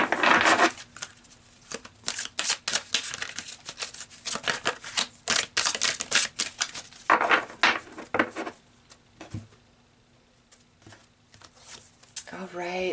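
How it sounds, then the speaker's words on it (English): Tarot cards being shuffled and pulled from the deck, heard as quick, close bursts of papery riffling and snapping in clusters, with pauses and a final soft slap. "So let's pull another card for you."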